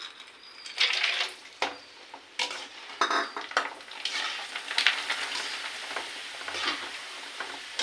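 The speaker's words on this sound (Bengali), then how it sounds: "এবারে ভাজবো এইগুলো" Vegetables frying in hot oil for a curry with bottle gourd stems, sizzling in uneven bursts with occasional scrapes and clanks of a utensil against the pan, close up and without voices.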